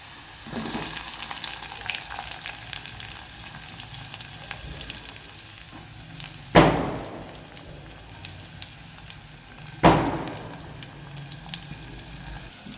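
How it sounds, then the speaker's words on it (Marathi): Onion with garlic sautés in a pan for a Marathi drumstick-pod curry, a steady close frying sizzle broken by two sharp louder bursts of hissing as ingredients hit the hot oil, with no talking. "आता हे कांदा छान असा परतत आहे."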